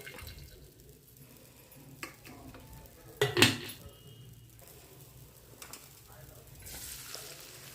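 A hot kadai on the stove for mushroom curry, with soft sizzling, a loud metallic clatter of utensils midway and scattered lighter knocks against quiet background.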